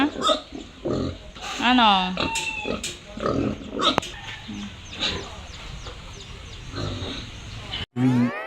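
Pigs and piglets on a backyard farm grunt and squeal in repeated bursts, close and fairly loud, mixed with clucking fowl, while a person talks to them throughout.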